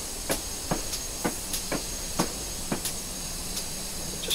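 A train in the Train Simulator 2015 video game creeps slowly toward coaches on the Wickham Branch workshop route, with evenly spaced, sharp clicks about every half second over a steady hiss.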